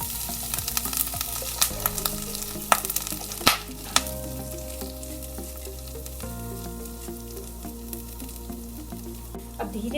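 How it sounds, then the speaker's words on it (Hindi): Moong dal frying in melted ghee in a kadhai over medium-low heat, a continuous sizzle broken by repeated scraping clacks of a spatula stirring the lentils. "अब धीरे धीरे इस दाल को स्पैचुला की मदद से ऐसे हम धीरे धीरे चलाएंगे"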